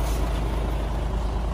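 A 40-ton truck loaded with donated rice sits with its diesel engine running, a steady close broadband rumble with no clear breaks.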